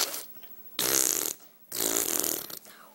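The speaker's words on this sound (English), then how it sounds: "I always have big farts." Two loud, close farts, each a rasping burst of about half a second to a second, separated by a short quiet gap, with no talking.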